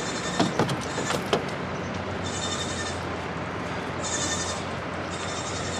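Goats in a truck bed during a long-distance move, several sharp bleats near the start followed by a few more calls, over steady vehicle hum and recurring high-pitched bursts.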